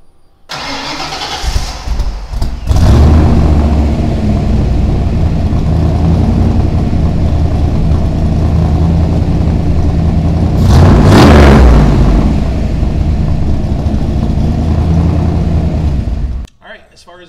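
A Ford Bronco II with a stroked 342 engine, aluminum head, small cam and aftermarket ECU cranks and fires up, then settles into a loud, steady rumbling run with one swelling rev midway before cutting off.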